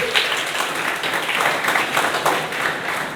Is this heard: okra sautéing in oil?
no